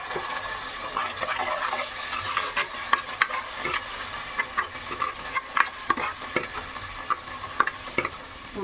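Tomato gravy tipped into hot tempering in a pan for fish gravy, then stirred, giving a steady sizzle with repeated scraping and clinking spoon strokes throughout, fairly close and alone.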